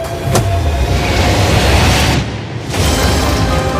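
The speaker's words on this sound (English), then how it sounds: "not only is this the fastest car in the world, oh my gosh, it accelerates so fast" A roaring rush of sound from the fastest car in the world accelerating, loud and continuous for several seconds with a brief dip near the end.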